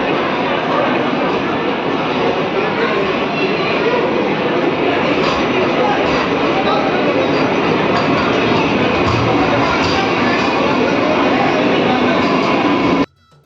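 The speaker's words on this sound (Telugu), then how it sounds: "ప్లాట్ఫామ్ 1 పైనకి అయితే మన ట్రైన్ అయితే వచ్చేసింది" A Vande Bharat Express at Secunderabad station platform 1 fills the air with a steady, loud rail rumble and broadband platform noise that holds constant before cutting off abruptly.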